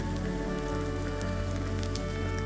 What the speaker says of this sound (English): Yes, it rains.